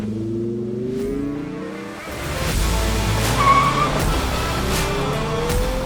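A turbocharged 2023 Mazda CX-50 SUV accelerates hard, its engine note rising steadily over several seconds with a loud, continuous roar and some tire noise.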